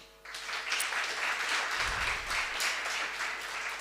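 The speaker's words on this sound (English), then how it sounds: "I really would like us to clap our hands for her." Applause at the launch of a university radio station, CPUT Live, starts abruptly and carries on as a steady, moderately loud patter of many hands clapping.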